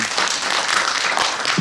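An audience at a Korean civic policy forum claps together in a brief, dense burst of applause, close and steady.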